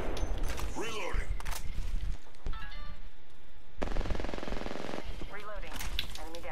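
Fast automatic rifle fire from an Anvil receiver in Apex Legends crackles in repeated loud bursts, close and sharp, with short gaps, clattering mechanisms between volleys and voices in the background.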